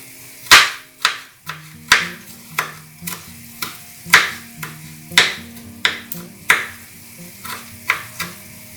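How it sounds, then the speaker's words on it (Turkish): A knife chopping green tomatoes into small pieces on a board, about a dozen crisp, evenly spaced cuts with a few faint low clinks between them, close and clear with no speech. "Bunları ben şimdi ufak ufak keseceğim içerisinde ağza gelecek şekilde."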